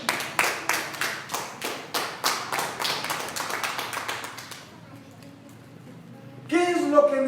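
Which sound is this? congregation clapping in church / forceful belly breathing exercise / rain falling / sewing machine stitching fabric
congregation clapping in church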